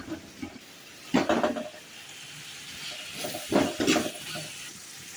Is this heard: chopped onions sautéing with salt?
yes